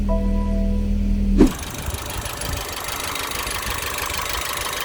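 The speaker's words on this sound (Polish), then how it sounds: "W silniczku coś stuka, jak możecie usłyszeć." A BMW X1 engine runs roughly with a knock after a steady idle cuts off, with an uneven ticking, knocking texture and broadband noise continuing at close range.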